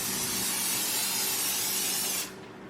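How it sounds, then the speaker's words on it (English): A sustained hiss of cooking oil spray into an air fryer lasting about two seconds, close and loud, then cutting off abruptly to quiet room tone. "Spray your air fryer."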